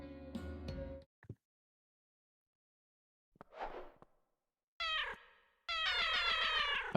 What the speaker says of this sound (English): We need to fix the meow sound a little bit